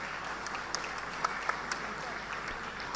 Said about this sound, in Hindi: ये तालियां लगातार बजती रहें